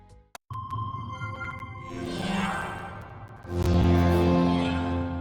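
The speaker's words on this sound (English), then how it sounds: "The intro sound was a tad scratchy though" Video game intro music streamed over Moonshine on Linux, slightly scratchy, plays alone: a short blip, then sustained swelling tones with a rising, brightening sweep that grows louder toward the end.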